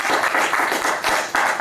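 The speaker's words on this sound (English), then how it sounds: "give yourselves a big round of applause" A talk show audience giving themselves applause, a moderate patter of clapping hands that surges and dips in short bursts, close by.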